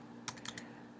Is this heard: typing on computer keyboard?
yes